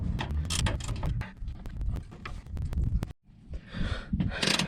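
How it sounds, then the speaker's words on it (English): Torx T30 screws are undone on a 2021+ Ford Raptor during a fog light install. Close, rapid ratchet clicks and metallic rattles come in bursts, with a brief pause partway through. "Now time to Torx these out."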